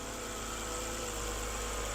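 A 2008 BMW E92 328xi with its N52 engine sits idling, a steady, even hum with a continuous mechanical drone that holds constant and close throughout, with no voices.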